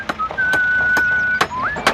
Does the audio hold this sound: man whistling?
yes